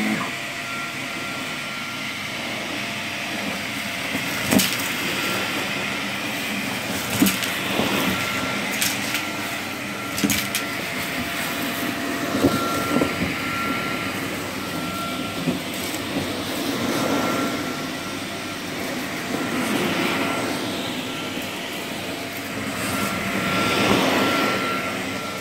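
Shark or Vax vacuum cleaner running with its brush roll switched off, a loud steady roaring whoosh of suction with occasional bumps and surges as it moves, with no speech.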